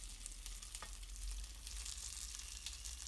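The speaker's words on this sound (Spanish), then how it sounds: "Cuando el aceite haya cogido temperatura, ponemos los gambones." King prawns sizzle and spit in hot olive oil in a pot, a steady close frying hiss with small pops, alone without voices.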